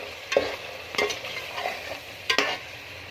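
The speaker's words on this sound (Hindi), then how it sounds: "इसको चम्मच चला के मिक्स करना है।" A spoon stirs potatoes frying with chili, coriander powder and salt for aloo gobi. Close, continuous sizzling is broken by several louder scraping strokes against the pan, with no voices.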